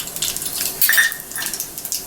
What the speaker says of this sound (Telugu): నూనె వేడెక్కిన తర్వాత పోపు దినుసులు వేసుకోవాలి